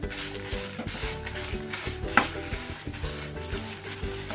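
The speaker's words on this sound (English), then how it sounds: "fry this on a very low flame" Ginger and dry red chilies fry on a very low flame, with a steady soft sizzle beneath music and a few light stirring scrapes, one sharper clink near the middle.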